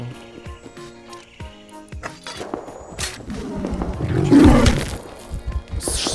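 A deep, rumbling tiger roar in the video game Rust swells up midway, loud and close, over game sounds with thuds and background music.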